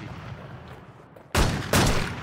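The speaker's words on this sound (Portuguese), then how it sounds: "eu escutei dois tiros, hein? De SPD." Two loud, close gunshots in the video game Infestation The New Z, sharp sudden blasts a fraction of a second apart after quieter ambient background.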